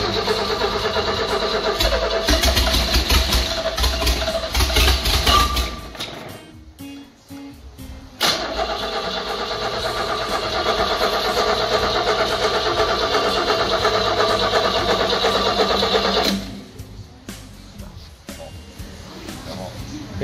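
An old Mercruiser 165 boat engine with a 250 Chev inline six cranks and catches, then runs at a loud rough idle, cutting out and restarting, with the steady engine drone dropping away near the end.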